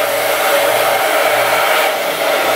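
Blow dryer running continuously to dry out the inside of a water bottle, a loud, steady airy roar with a faint hum pulsing underneath, no talking.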